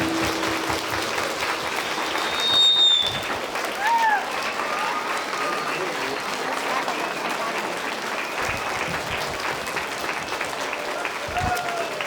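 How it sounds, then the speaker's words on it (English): A crowd at an American Legion Post 68 veteran assembly applauds veterans, sustained dense clapping filling the room at even loudness, with a few whistles and brief voices over it. "I think we all need to stand up and give them a huge round of applause for their service"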